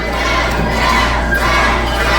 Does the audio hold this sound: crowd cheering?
yes